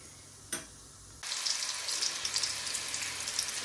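Turmeric hits hot oil in a kadai, bringing a soft knock and then a sudden, steady, crackling sizzle that keeps going with small pops until the end.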